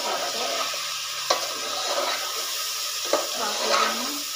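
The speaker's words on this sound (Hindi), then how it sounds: "इसको मैं मिक्स करती आ रही" Chicken karahi marinade being mixed with spices by hand in a bowl, a soft continuous wet stirring and squelching with a couple of sharper knocks, close and steady with no talking.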